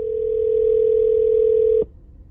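Phone call dial tone heard through a car FM transmitter, a single steady pure tone lasting nearly two seconds before cutting off abruptly, with low engine hum underneath.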